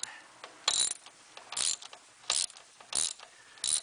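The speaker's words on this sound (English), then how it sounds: "There's a bolt right here. I'm going to be loosening that." A ratchet loosens a bolt on the 3.9L engine of a 1993 Dodge Dakota, giving five close, quick bursts of clicking with short pauses between them.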